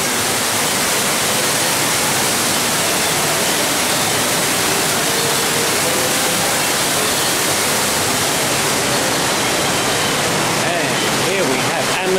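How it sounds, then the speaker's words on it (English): An indoor waterfall at the Georgia Aquarium, a loud, steady broadband rush of falling water filling the space continuously without letup. "Here's another waterfall."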